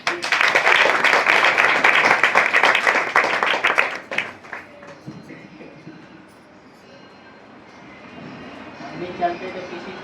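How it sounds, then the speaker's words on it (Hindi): A church congregation clapping loudly together in praise for the Lord's servant, a dense roar of applause for about four seconds that then fades into quieter room noise. "प्रभु के दास के लिए हम ताली बजाएंगे"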